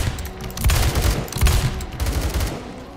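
Rapid gunfire in the video game Phantom Forces, where a .44 Magnum revolver with an extended barrel is in use. Several loud, heavy shots crack in close succession over a few seconds, with no talking.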